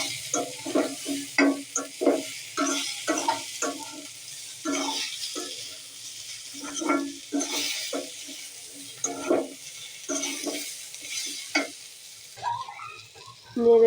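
Chopped onion and pointed gourd fry in a pan under repeated scraping strokes of a spatula, rhythmic stirring bursts over a soft, continuous sizzle.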